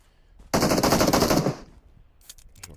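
Rapid automatic gunfire in a video game, one loud sustained burst of about a second, followed by a few fainter scattered shots.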